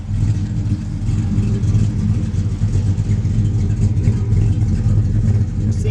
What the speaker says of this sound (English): And that's a set of Flowmaster exhausts.